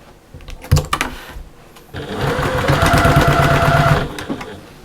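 A sewing machine stitches a seam across a fabric storage caddy: a few close clicks and thumps as the fabric is positioned, then a loud, steady mechanical whir running about two seconds before it stops.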